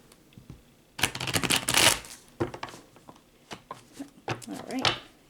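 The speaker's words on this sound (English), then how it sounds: "I just wanted to shuffle up a little bit more." Tarot cards being shuffled by hand, a loud riffling burst followed by a series of shorter irregular card flicks and taps, close up with talk nearby.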